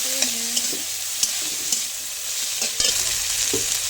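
Chopped tomatoes fry in oil as a spoon stirs them, a steady close sizzle broken by scraping strokes and soft clicks against the pan.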